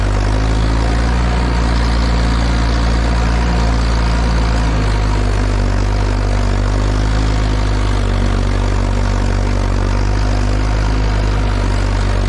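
A tractor working a subsoiled field is given a little throttle: a loud, close, low engine rumble whose pitch rises and settles partway through, then holds steady at the higher revs until the end.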